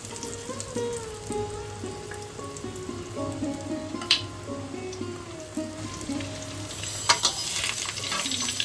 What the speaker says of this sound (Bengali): এবার আমি ধোকাগুলো ভেজে নেবো এতে